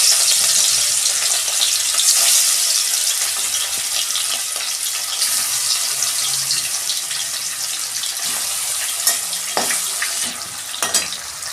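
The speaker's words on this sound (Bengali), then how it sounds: "দেখুন বন্ধুরা, তেল গরম হয়ে গেছে, আমি মাছটা দিয়ে দিচ্ছি।" Fish fries in hot oil in a home kitchen, giving a steady, loud, dense sizzle with bursts of spattering and crackling throughout, and occasional clinks near the end.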